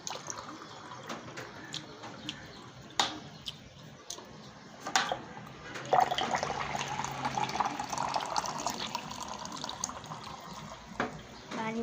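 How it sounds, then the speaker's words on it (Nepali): Tap water runs into a container, a quiet trickle broken by scattered clicks and knocks that swells into a fuller, steady filling rush partway through. "मेरो त पानी भरौँ"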